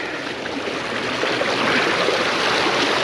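Stream water rushes through a broken beaver dam, a steady broadband gush close by that grows slightly louder toward the end, with no voices.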